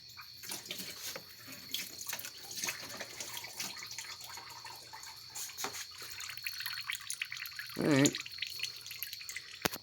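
Coolant dripping from a radiator hose on a 2005 Chevy Cavalier 2.2-liter four-cylinder, faint scattered drips and trickles with one brief louder splash near the end, close and quiet.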